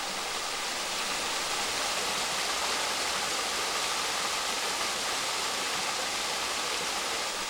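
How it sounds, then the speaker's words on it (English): The waterfall on the Whinny Burn at Dalzell Estate pours in a constant, even rush of falling water, steady and unbroken from start to finish. "there's a fine view down to the waterfall on the Whinny Burn."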